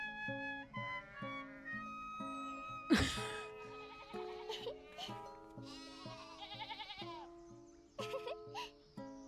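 Sheep in a video game bleat repeatedly in overlapping, wavering calls, joined by chiming game music and effects, with a sharp burst partway through.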